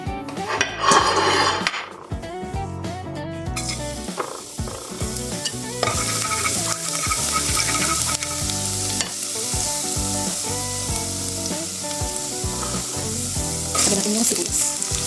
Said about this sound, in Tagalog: Igisa tayo ng bawang sibuyas.